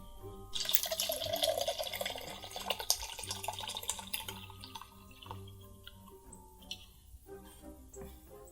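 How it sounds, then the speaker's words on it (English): Ecto Cooler juice pours into a can in a steady splashing trickle, close and fairly loud for several seconds before thinning out, with faint background sounds. "Why am I just pouring a little bit in this can?"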